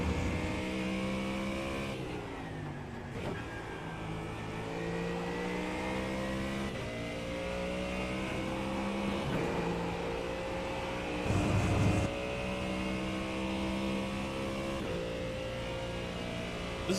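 Race car engine in the iRacing sim at Spa, droning steadily at high revs with rising and falling pitch through gear changes, loud and continuous with a brief louder burst near the end.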